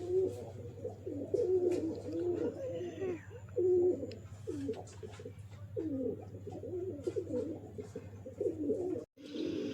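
Pigeons kept at a house coo repeatedly in soft, throaty rolling phrases close by, steady over a low background hum with occasional voices.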